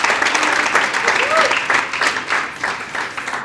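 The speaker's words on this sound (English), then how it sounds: "Let's give Deirdre a round of applause." A community awards audience applauds in a lively burst of clapping that swells and then gradually tapers off, with a few voices calling out over it.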